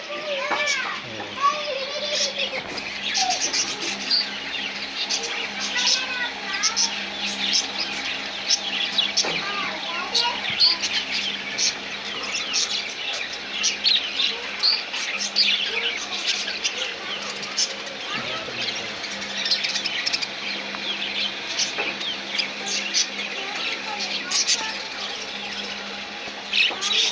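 A mixed aviary colony of lovebirds and budgies chirps constantly, with dense overlapping high tweets and calls continuing for the whole stretch, and a voice speaking faintly underneath.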